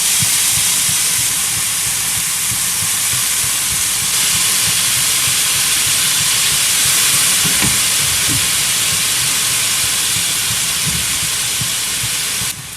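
Instant noodles sizzle as they go into a hot pan with meat for Chapaguri, a loud, steady broadband hiss and crackle that holds evenly throughout with no talking.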